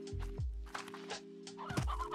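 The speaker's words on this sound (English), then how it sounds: "Alright, get this rooster back where he goes." A rooster in the Slime Rancher video game clucks and gobbles in a few short bursts, clear and close, with a faint electronic game background and no talking.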